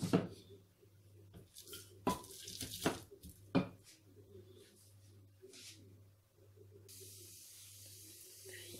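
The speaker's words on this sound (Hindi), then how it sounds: "गरम हो गया, ये मैंने जीरा जो रखा है ये डालूंगी।" Cumin seeds hitting hot oil in a pan for Lahori chikar cholay, giving a sharp burst of sizzling and crackling pops at first, then a steady soft hiss that continues under a low hum.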